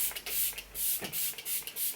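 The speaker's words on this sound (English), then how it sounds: "hydrate my skin using the Glam Glow Glow Setter Makeup Setting Spray" Glam Glow Glow Setter makeup setting spray is spritzed in a rapid run of short, airy hisses, close and quiet with no voices.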